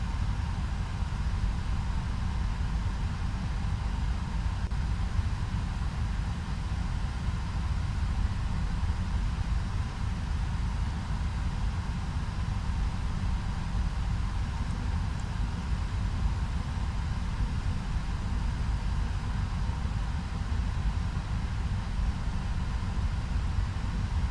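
A Boeing 767 engine in the X-Plane 11 flight simulator drones in a steady, unchanging low hum that stays level from start to finish, with no talk over it.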